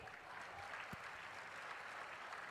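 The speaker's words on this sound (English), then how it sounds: "a huge round of applause for Shri Amish Tripathi ji" Audience applause at a school memorial talk, a steady wash of many hands clapping, fairly distant and faint, with no speech over it.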